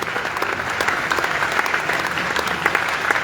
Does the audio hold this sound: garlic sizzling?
no